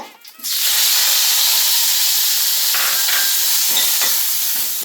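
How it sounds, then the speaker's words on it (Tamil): Curry leaves fried in a teaspoon of oil for a Pirandai thovayal, a loud steady hiss and sizzle that flares up after a brief quiet start and stays strong and close throughout, with no talking. "ஒரு டீஸ்பூன் எண்ணெய் ஊற்றி நான் இந்த கருவேப்பிலையை போட்டு நல்லா வதக்க போகிறேங்க"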